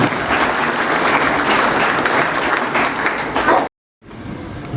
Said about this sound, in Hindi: जोरदार तालियों से स्वागत कीजिए राकेश चौहान जी।